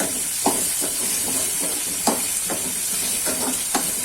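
Gunda sambharo, a Gujarati gunda pickle-style dish made with flour, frying in a pan with steady sizzling and hiss while a spoon stirs, giving soft periodic scrapes about every half second to second.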